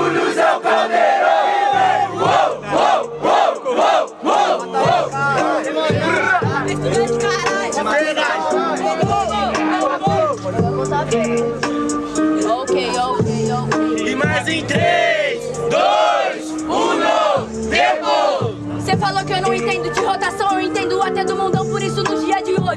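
A crowd at a student freestyle rap battle cheers, shouts and chants loudly and continuously over a beat, with a dense, excited roar that rises and surges throughout.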